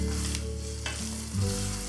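Small onions sautéing in oil for a Chettinad fish curry, a brief close sizzle with a couple of stirring scrapes over a low background hum.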